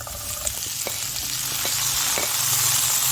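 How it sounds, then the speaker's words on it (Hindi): Fresh garlic sautéing in oil, a close, steady bright sizzle with a few faint stirring taps and clicks scattered through it, continuous and fairly loud with no speech. "इसमें हम जो हमारा गार्लिक है उसको थोड़ा सा सौते कर लेंगे।"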